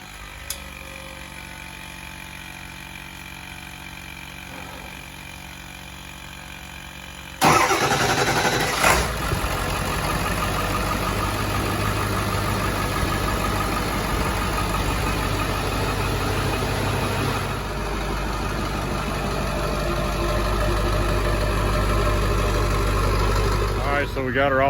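A 7.3 diesel truck engine fitted with a Wicked Wheel turbo compressor wheel and an EBPV delete cranks and fires, then settles into a loud, steady, rumbling idle close by. The engine runs alone, with no talk over it.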